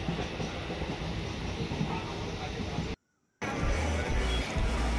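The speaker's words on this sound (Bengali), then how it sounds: "এটা কল্যাণী শিয়ালদা যাওয়ার ট্রেন" Inside a moving Kalyani–Sealdah local train, a steady loud rumble of wheels and carriage noise fills the clip, broken by a brief dropout near the middle before the roar resumes.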